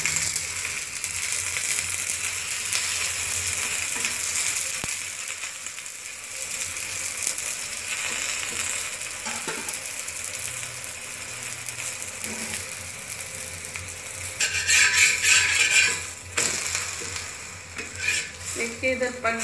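A drumstick flower chila cooks in oil in a pan, giving a steady sizzle throughout with brief scraping and clinking of a utensil, and a louder, brighter burst of frying near the end.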